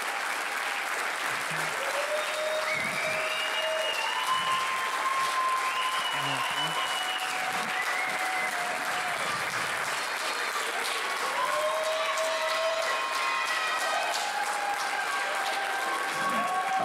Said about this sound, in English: give a big round of applause for our highest honors